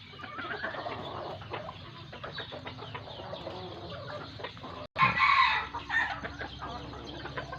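A rooster, a 7-8 month old gamecock, crows loudly near the end, following several seconds of steady background clucking and farmyard noise.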